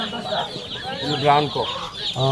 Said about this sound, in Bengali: এগুলো কি মুরগির বাচ্চা?